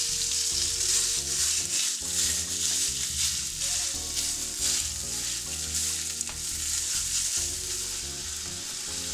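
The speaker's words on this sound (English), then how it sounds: "Now I've added some olive oil to a hot skillet and I'm going to brown off that bulk sausage" Bulk sausage browns in olive oil in a hot skillet with a steady, loud sizzle and crackle, while a music track plays underneath throughout.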